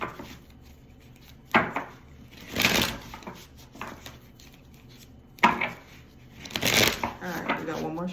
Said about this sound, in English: let's get a few more shuffles in